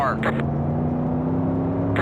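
Big Block Modified race car engines on the Bristol dirt track in iRacing drone steadily, with brief whooshes of cars passing at the start and end, under a voice talking.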